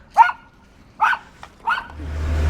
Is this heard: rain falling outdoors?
no